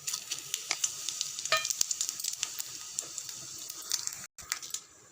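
Red chilli, mustard seeds, urad dal and cumin crackle and sizzle in hot oil for a tempering, a steady close hiss scattered with sharp popping spatters, stopping briefly near the end.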